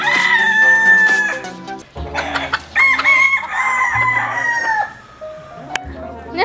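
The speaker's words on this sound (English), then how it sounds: "He is screaming for freedom. He is screaming for redemption of the rooster sort." A rooster crows loudly and close, several long strained calls in succession, with some clucking and rustling between them.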